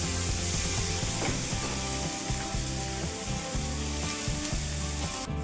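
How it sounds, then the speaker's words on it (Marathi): Tomatoes sauté in a pan until soft, a loud steady sizzle broken by repeated scraping and clacking of a utensil stirring against the pan. "आता टोमॅटो छान मऊ होईपर्यंत आपल्याला ते परतून घ्यायचे"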